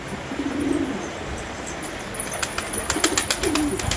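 Pet pigeons cooing while they bathe on a Sunday, soft low coos rising in two short bursts near the start and end, with light splashing and clicking in between, no talk.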